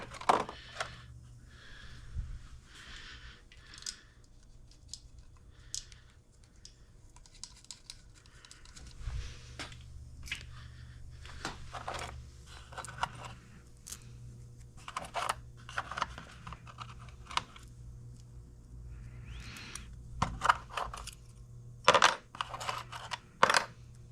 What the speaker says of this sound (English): I'm going to put the screws back in.